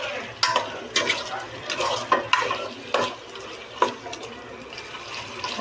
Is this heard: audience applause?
no